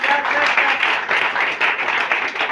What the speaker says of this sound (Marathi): सर्व पुरुषांनी त्यांच्याबद्दल एक जोरदार टाळ्या वाजवा.